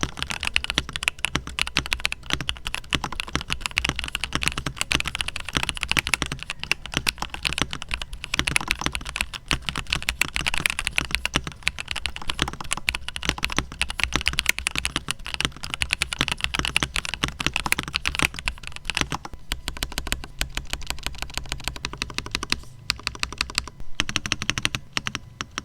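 Fast, continuous typing on a RAKK Kimat XT3 104-key mechanical keyboard with lubed Huano yellow switches on a steel plate, dense clacking keystrokes close to the microphone with brief pauses near the end.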